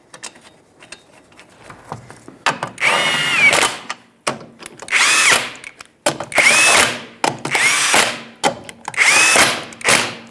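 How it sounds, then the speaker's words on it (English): Repeated close bursts from a power drill or impact tool running lug nuts onto the rear wheel of a 2006-2011 Honda Civic, five loud whirring runs of about a second each, separated by short pauses and small mechanical clicks. "Reinstall all 5 lug nuts, bottom them out in a cross pattern"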